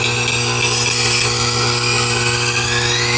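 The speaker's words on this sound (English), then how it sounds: "You can hear those little pieces of burr." Small burr pieces catch on a Tormek T8 CBN sharpening wheel while a blade is honed, a steady motor hum with a continuous grinding hiss throughout, no voices.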